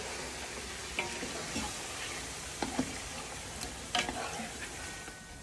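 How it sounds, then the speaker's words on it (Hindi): Marinated chicken being stirred and mixed in a hot pan, with a soft steady sizzle underneath and a few scattered scraping clicks from the spoon. "ये जो चिकन हमने मैरिनेट करके रखा था ये पूरा हम इसमें डाल देंगे। इसे अच्छे से मिक्स करेंगे हम।"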